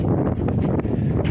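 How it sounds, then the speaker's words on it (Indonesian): Strong wind buffeting a microphone on the high rooftop of a tsunami evacuation building in Banda Aceh, a loud, constant low roar with gusty fluctuations. "angin di sini kencang sekali"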